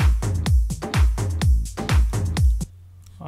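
Electronic drum groove loop with punchy kicks, claps and hi-hats in a steady repeating pattern, loud and dry, ending with a short quiet tail.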